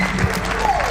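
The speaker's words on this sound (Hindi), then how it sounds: "एक बार जोरदार तालियां राहुल जी के लिए।" An audience at a poetry recital gives a brief burst of hearty applause, close and continuous for the short moment with a hint of voices mixed in.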